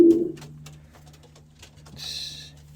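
Pigeon hen cooing close by, a low rolling coo that repeats steadily under a brief wing rustle, with a soft hissy flutter near the end.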